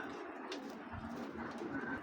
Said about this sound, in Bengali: দেখুন এখানে এক জোড়া রেড চেকার।